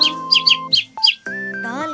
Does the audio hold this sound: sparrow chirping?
yes